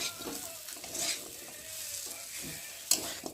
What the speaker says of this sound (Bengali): দিয়ে একটু ভালো করে নেড়ে দেবো। এটা নাড়তে নাড়তে ম্যাগিগুলোকে আস্তে আস্তে ছেড়ে যাবে।